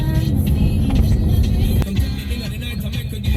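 A small motor vehicle, a sahbimobile, drives steadily after shifting into second gear, its engine droning loud and close with a continuous low rumble and a slight rise in revs, with no talking over it.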